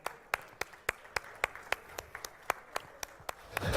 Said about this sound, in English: Can we have a huge round of applause for Team Gonasika?